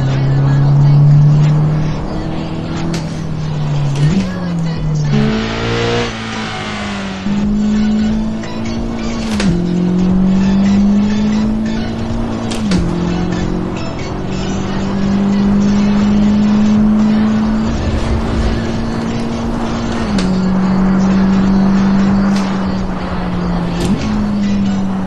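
2023 Honda Civic Type R race car in Assetto Corsa with a 330 hp engine and six-speed manual, revving hard and loud through repeated upshifts with dips between gears, no speech.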